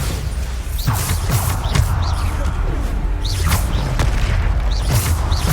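Bombarda blasting spells explode repeatedly in Hogwarts Legacy combat, a run of loud booms, crashes and whooshes in a dense, continuous battle din with a voice heard faintly under it.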